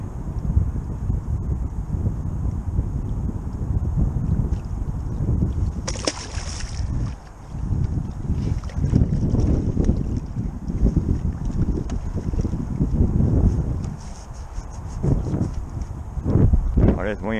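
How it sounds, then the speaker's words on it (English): Strong wind of about 20 mph buffeting the microphone on a fishing boat out on the water, a constant loud low roar with gusts, and someone talking through it. "this wind's tough out here today"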